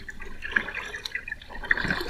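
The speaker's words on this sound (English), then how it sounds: "you're going to hear the ripple of the water" River water rippling and trickling close by, with small drips and splashes scattered over a steady soft wash, no voices.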